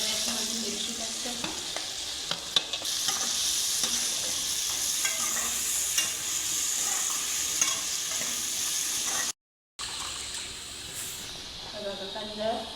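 Onions and green chilli frying and being stirred in a pan, a steady close sizzle with scraping stirs throughout and a brief gap near the end, with someone talking intermittently.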